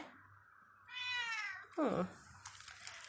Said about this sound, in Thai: เหมียวจะกินไหม